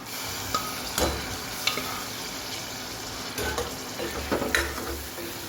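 Dal cooking in a pan is stirred with a spoon, giving repeated scraping strokes over a steady frying sizzle, close and without any voices.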